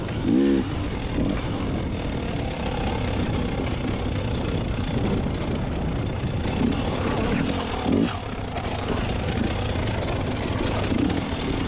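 A dirt bike engine during a hard enduro race, running steadily and fairly loud throughout with a rough, constant drone and occasional surges, with no clear speech over it.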